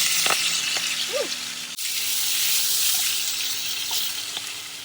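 Spinach and steak sizzling together in a cast iron pan, a steady bright frying hiss broken by a single clatter partway through, with no one talking.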